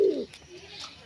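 A pet pigeon gives one short, low coo at close range, then falls quiet over a faint background.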